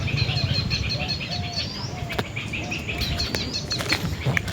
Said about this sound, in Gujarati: ચકલા કેવી રીતે ઉડી રહ્યા છે ગાઈસ.